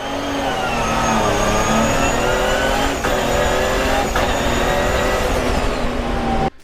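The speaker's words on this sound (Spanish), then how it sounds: "los que no tienen ni idea de cómo se escucha una transmisión de engranes rectos" A car fitted with a straight-cut gear transmission gives off a loud, continuous whine that rises and falls in pitch with engine speed through repeated gear pulls, up close, with no talk, then cuts off abruptly at the end.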